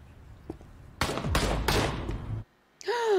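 Gunshot bursts in a scene from the TV show Lucifer, several sharp loud blasts in quick succession, then a brief silence before a ringing tonal sound.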